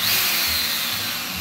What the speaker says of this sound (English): make sure that thing's drilling straight and not all cocky wise